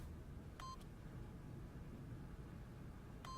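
Two short electronic keypad beeps from code entry in The Stanley Parable, one near the start and another at the very end, over a steady low hum of background noise.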